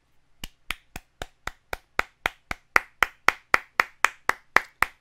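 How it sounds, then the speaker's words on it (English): Hand clapping from a single person, about twenty sharp claps in a steady, even rhythm that grows slightly louder over five seconds, close and clear with no talking. "I hope you guys are clapping along with me"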